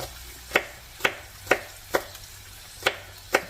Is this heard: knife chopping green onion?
yes